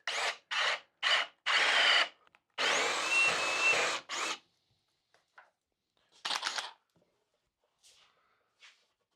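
A power drill bores holes through a drill jig in several short, close bursts followed by one longer whirring run, with pauses and faint clicks in between.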